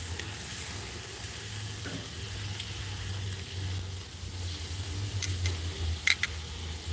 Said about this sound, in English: Let it sizzle up a little bit.